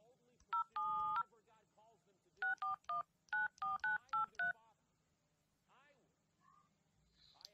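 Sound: telephone keypad dialing tones

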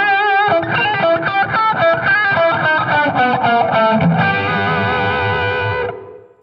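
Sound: distorted electric guitar riff

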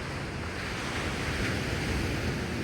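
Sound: sea waves on the shore

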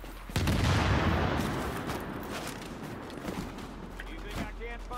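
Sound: heavy gunfire in the video game Tom Clancy's The Division

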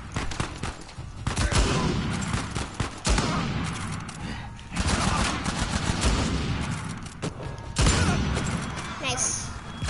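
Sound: gunfire from MP rifle in video game Uncharted 4

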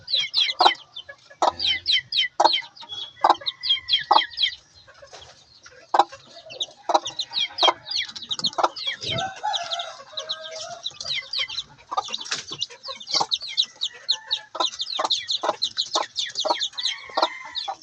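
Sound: chicks peeping, three days old

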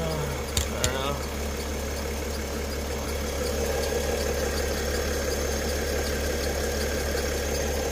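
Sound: air suspension pump running on Mercedes Airmatic

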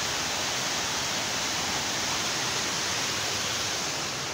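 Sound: waterfall in an ecological reserve

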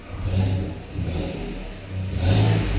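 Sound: Chevy Silverado engine running rough

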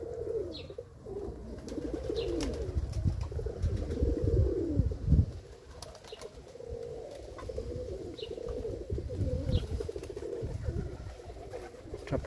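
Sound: flock of pigeons cooing

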